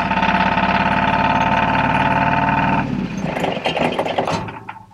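A power generator's engine runs with a steady, loud mechanical drone, then cuts out abruptly partway through, leaving scattered rattling and clicking noises that fade toward the end.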